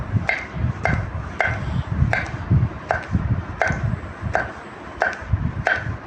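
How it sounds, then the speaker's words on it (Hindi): A knife chops eggplant on a cutting board in steady, evenly spaced strokes, about eight crisp close knocks over a few seconds, with no talking. "तो ये देखें इसी हिसाब से काटें बैंगन को।"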